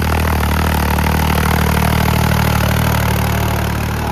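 A warmed-up 4x4 tractor engine runs at a steady, loud, continuous drone, close up and without voices.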